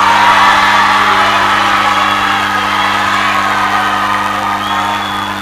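Large outdoor festival crowd at a sports-promotion event cheering, whooping and clapping loudly and continuously, a dense sustained roar with shouts throughout, staying strong for the whole stretch.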